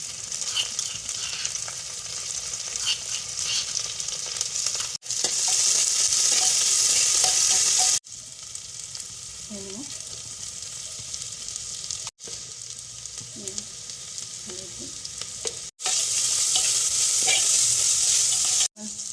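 Bay leaf, panch phoron spices, ginger and garlic sizzle and crackle steadily in hot oil for an Assamese jackfruit curry, loud and continuous with stirring, the frying noise swelling in bursts between brief cuts.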